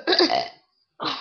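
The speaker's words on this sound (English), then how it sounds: "today we are going to be doing some burping" A deliberate, forced burp: one rough, throaty belch of about half a second, close and fairly loud, then a pause and the start of a second burp.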